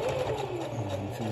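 A modern sewing machine runs steadily while stitching a ski muff, a continuous close mechanical whir with a fast, even needle rhythm and no voices over it.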